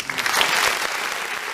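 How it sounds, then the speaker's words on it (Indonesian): Audience applause for a team at an ideathon event, a dense, steady burst of many hands clapping together, loud and close, filling the whole short stretch. "tepuk tangan sekali lagi untuk Ampiang Lempu"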